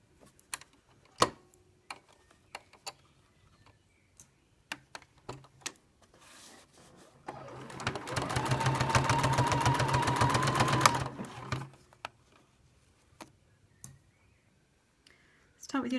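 Amid scattered clicks and handling noises, a sewing machine stitching a zip pouch runs in one close burst of about four seconds.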